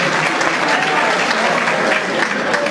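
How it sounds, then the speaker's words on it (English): A dinner-party audience at a restaurant birthday celebration applauds the band, a dense, steady wash of many hands clapping close by, continuous for the whole stretch with a faint voice mixed underneath. "Can we get a big round of applause for the band?"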